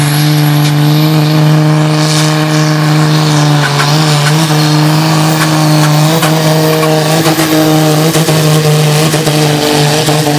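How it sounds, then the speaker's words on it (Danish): A tractor engine in full pull at a 2019 tractor pulling event in Sønder Hygum, Denmark, droning loud and steady with a deep sustained tone and rising revs throughout, close and continuous. "Den plejer at køre stabil, den her traktor."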